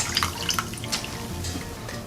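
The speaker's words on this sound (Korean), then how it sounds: "불린 가지를 물기를 살짝 짜서 양념을 해주겠습니다." Soaked dried eggplant is squeezed by hand, releasing water that trickles and drips close up in a short, soft burst.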